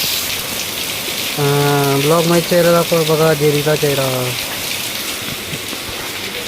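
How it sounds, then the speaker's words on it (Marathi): Rain falls steadily outside, a constant soft hiss running through the whole stretch while someone speaks briefly in the middle. "पाऊस पण पडतोय बाहेर"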